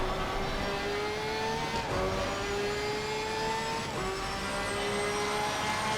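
A Lamborghini in a sim racing game holds a steady high engine drone, shifting gears twice with brief dips in pitch between long, even pulls.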